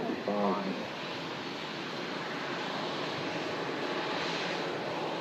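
A Saudi Boeing 787 Dreamliner rolls along after landing, its engines a steady, even roar with a washing hiss. A voice is briefly heard at the start.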